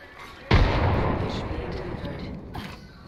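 A frag grenade detonates in the Apex Legends video game, a sudden loud blast at about half a second followed by a long rumbling decay lasting a few seconds, with a softer burst near the end.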